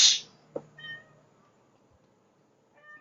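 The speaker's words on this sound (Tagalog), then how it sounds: "Ang ingay ng pusa ko, sana hindi niyo naririnig." A house cat meows nearby in a quiet room: one brief sharp cry at the start, then softer short meows trailing off, with faint calls returning near the end.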